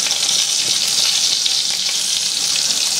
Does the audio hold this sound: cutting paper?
no